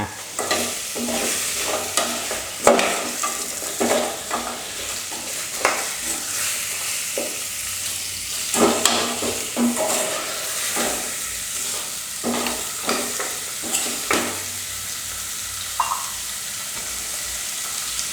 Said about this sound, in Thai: ผัดให้มันหอมเลยนะครับ เวลาที่มันโดนความร้อน โดนเครื่องสามเกลืออะไรแบบนี้กระดูกมันจะหอมขึ้นมา